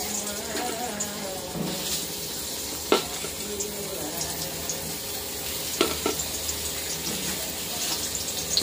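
Pointed gourd pieces rubbed with turmeric and salt fry in a pan, giving a steady soft sizzle with occasional sharper clicks and spatters from the oil.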